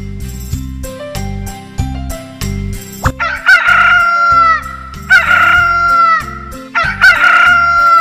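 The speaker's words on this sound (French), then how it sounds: "C'est comme un coq!" A cartoon rooster crow sound effect from a children's video game rings out loud and clear, repeated three times after a short run of bright musical notes, with no talk.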